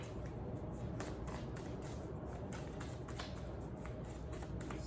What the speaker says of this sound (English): I'm gonna do another shuffle of my Spellcaster's Tarot